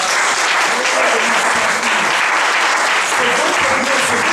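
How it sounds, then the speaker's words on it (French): A church congregation claps and cheers loudly and continuously, a dense wash of applause from many hands with voices mixed in throughout. "Acclamons le Seigneur."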